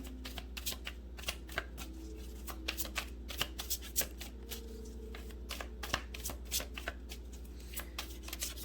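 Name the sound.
shuffling tarot cards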